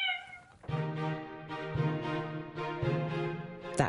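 A house cat meows close by in a room, giving three long, drawn-out, loud calls in quick succession after a brief higher-pitched sound at the start, with no talking over them.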